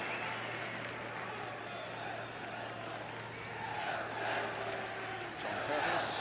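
A stadium crowd at Stamford Bridge applauds during a Division 2 match between Chelsea and Blackpool, a broad, distant wash of clapping and murmur that swells slightly toward the end.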